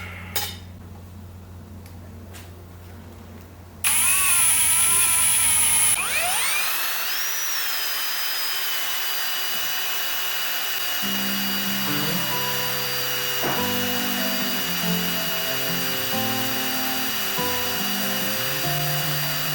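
A power drill, used in work on a mower engine mount, spins up to a loud high whine after a few seconds of quieter clatter, then keeps running steadily with shifting tones and no talking.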